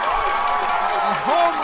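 Crowd noise at a high school softball playoff game after a home run, a brief swell of cheering from spectators mixed under an announcer's voice.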